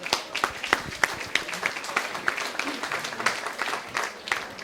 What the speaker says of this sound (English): He's one, so that deserves a round of applause.